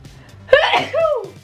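A single loud, close sneeze, a sharp burst followed by a short vocal tail.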